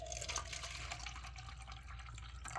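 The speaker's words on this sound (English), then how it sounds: "So let's split our hot water here." Hot water poured from a canteen into cups for cocoa and coffee from a 1951 Korean War B-1 ration: a faint, steady trickle and drip of liquid against a low background hum.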